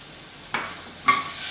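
Spices with asafoetida powder fry in a pan with a soft, steady sizzle, punctuated by two short scraping stirs.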